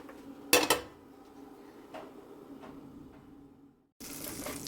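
A lump of butter goes into a large pot on a stove, giving one quiet metallic clank followed by a few faint knocks in a hushed room before a brief burst of broadband noise at the end.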